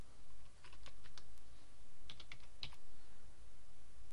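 Password being typed on a computer keyboard: several short bursts of soft key clicks, close and fairly quiet, alone without speech.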